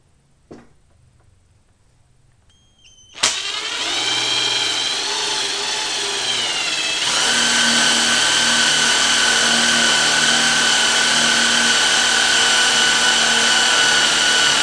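A power drill drives self-tapping screws, starting with a sharp click, then a loud steady whirring drone that climbs in pitch and holds high and continuous, close and alone.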